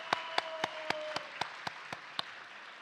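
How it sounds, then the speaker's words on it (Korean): Slow, isolated claps ring out in a church during a Christmas service, about ten sharp separated strikes at an even pace, quiet against a faint hum and a fading sustained tone. "큰 감사와 영광의 박수를 보내드리겠습니다."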